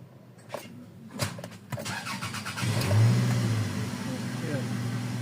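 A Toyota Previa with a no-idle, hard-starting fault is cranked again, brief cranking bursts with clicks giving way to the engine catching and running roughly, close up, with people talking over it.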